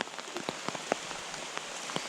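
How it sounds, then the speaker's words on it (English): Light rain patters on a surface during a backpacking trip, a soft steady hiss broken by scattered, distinct drop taps, faint and with no voices. "It started to rain."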